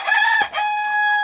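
German fowl rooster at a poultry farm crowing once, close and loud, a long strained call with a brief break partway through.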